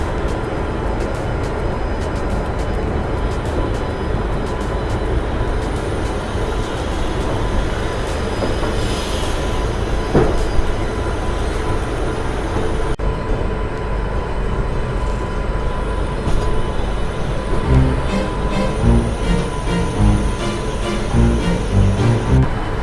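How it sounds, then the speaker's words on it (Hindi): A Jan Shatabdi Express hauled by a WAP-7 electric locomotive pulls out of Ahmedabad Junction, a loud, steady rumble of rolling railcars with squealing wheels and rhythmic clatter that builds toward the end. "और ये है हमारा लोकोमोटिव जो कि आज हमारी ट्रेन को होल्ड करेगा टिल केवड़िया, जो कि है बड़ोदरा का वेब 7।"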